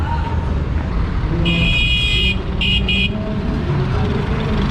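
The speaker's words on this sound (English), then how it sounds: "Of course, the always crazy traffic in Manila." Busy Manila street in the Tondo area with constant engine rumble and traffic noise, broken by two clear car horn toots in the middle, one longer and one short double blast, nearby and loud.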